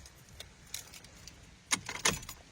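Keys jangle outdoors with a light clink early on, then two brighter close bursts of metallic jingling near the end over a quiet background.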